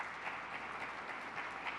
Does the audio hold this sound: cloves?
no